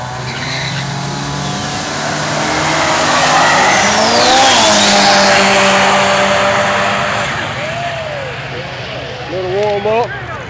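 Mitsubishi Eclipse drag car making a warm-up run at Mooresville Dragway, a loud engine roar with tire squeal that swells and fades past, then rising rev whoops, while people talk nearby.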